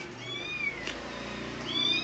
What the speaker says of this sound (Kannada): ಅಲ್ಲ ಬೆಕ್ಕು ಸೌಂಡ್ಗೆ ನನಗೆ ತಲೆ ನೋವು ಬಂದುಬಿಟ್ಟಿದೆ